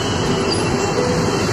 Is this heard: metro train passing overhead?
yes